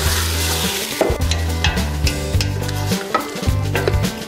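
Pre-cooked tomatoes go into a hot pan of frying fresh tomatoes for spicy lentils, producing a continuous sizzle with stirring and a few scrapes and knocks of a utensil against the pan.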